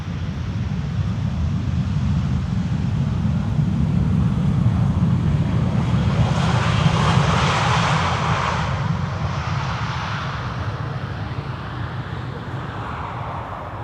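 Iberia airliner arriving at Schiphol's Polderbaan runway 18R, a loud continuous jet engine roar that swells as it passes nearby and then slowly fades, with no talk over it.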